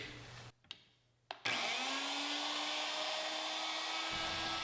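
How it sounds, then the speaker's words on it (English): A Porter Cable 513 lock mortiser cutting a lock pocket: after a couple of clicks and a brief silence, the motor spins up into a loud, steady high-pitched whine with grinding cutting noise that runs continuously to the end. "If you've ever used this machine or seen it used, you know how much sawdust it makes fly."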